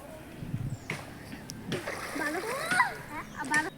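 Children splashing in a village pond while bathing, with irregular splashes and sloshing water, childlike voices and chatter mixed in, moderately distant and fairly quiet.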